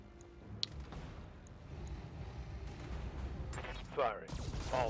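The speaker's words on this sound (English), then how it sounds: "Firing. All weapons." Mech weapons in the Battletech video game fire in a dense, rumbling barrage that swells and rolls on for several seconds, with brief voices near the end.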